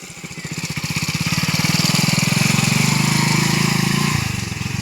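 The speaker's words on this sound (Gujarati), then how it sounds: "મારા ભાઈ બાઇક લઈને આવી રહ્યો છે" A motorcycle approaches along a muddy, flooded village path. Its pulsing engine grows steadily louder and nearer, then eases off slightly at the end.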